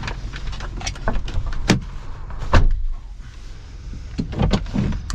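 Someone reaches back and shuts the rear door of a 2025 Ford Bronco Badlands Sasquatch, giving several close knocks and thuds with a solid slam partway through over a steady cabin hum.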